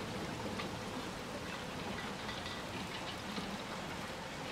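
Steady, dense rainfall in the video game Little Nightmares 2 hisses evenly throughout at moderate volume, with no talk over it.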